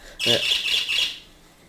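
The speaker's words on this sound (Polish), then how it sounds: "papuga też musi coś powiedzieć" A parrot lets out a loud, harsh squawk lasting about a second, close by, with a brief raspy onset that fades into a faint tail.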